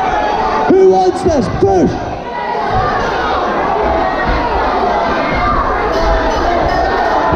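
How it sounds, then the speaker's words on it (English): A loud crowd shouts and cheers ringside at a white-collar boxing event in Alloa, with a steady roar of voices and a few sharp yells near the start while one voice speaks over it. "let me hear you shout for the red corner and the blue corner"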